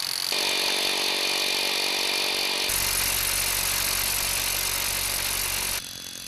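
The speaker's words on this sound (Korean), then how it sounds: "바위 표면에 구멍을 뚫는 천공 작업이 시작됐다" A rock drill bores holes into a rock face on a mountain slope, a loud continuous high-pitched grinding whine that steps up in intensity midway and runs steadily throughout.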